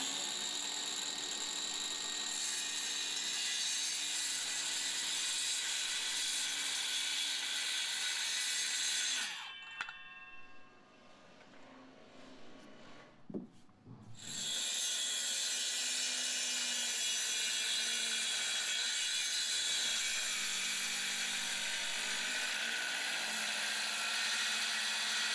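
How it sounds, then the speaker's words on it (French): A circular saw cuts a joint in a wooden roof beam during an old roof structure renovation, whining loud and steady, then spinning down for a few seconds before it runs up and cuts again. "Il marque l'assemblage sur le bois et le scie sur mesure à la scie circulaire."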